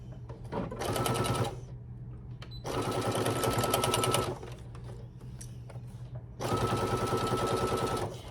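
A sewing machine stitches a summer tote bag in three long bursts of steady, fast mechanical whirring. Each burst is separated by brief quiet pauses, and the machine is loud and close.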